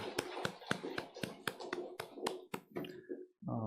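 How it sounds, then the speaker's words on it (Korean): A small church congregation claps in a quick, steady rhythm of sharp hand claps during a Sunday service, fading out at the end as a voice begins. "우리 하나님께 영광의 박수를 올려드리겠습니다"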